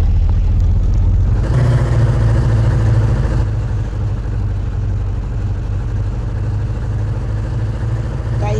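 A car engine in the mobile game Techno Ke Mare cranks to life with a loud, steady mid-pitched rumble that settles into continuous driving drone, with no talking.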